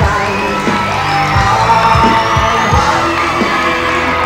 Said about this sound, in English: Meeting with the accolades of the crowd here at the Sportatorium.